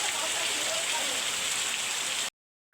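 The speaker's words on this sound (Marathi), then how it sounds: "असा पाऊस पडतो" Heavy rain pouring steadily, a dense continuous hiss, up close and loud, cutting off abruptly near the end.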